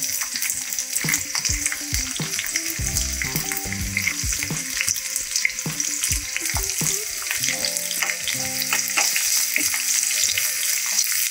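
Green chillies and onions frying in hot oil for a fish masala curry, a continuous crackling sizzle with occasional stirring clatter throughout, no voices.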